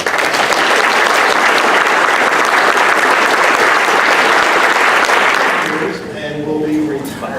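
Audience applause at a county officials' summit, a dense steady ovation filling the room for about six seconds before fading, then a few voices talking faintly.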